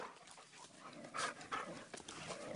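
Dog in a garden panting quickly with soft whimpering whines, close and moderately loud, breathy bursts coming in an uneven rhythm across the moment.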